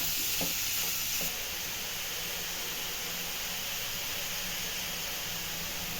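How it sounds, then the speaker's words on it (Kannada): Capsicum and carrot pieces fry in an oiled pan with a loud, even sizzle. A few soft stirring knocks come in the first second, then the hissing carries on alone. "ಕ್ಯಾಪ್ಸಿಕಮ್ ಮತ್ತು ಕ್ಯಾರೆಟ್ ಹಾಕ್ತಾಯಿದ್ದೀನಿ ಇದೊಂದು ಎರಡು ನಿಮಿಷ ಚೆನ್ನಾಗಿ ಫ್ರೈ ಮಾಡ್ಕೊಂಡು"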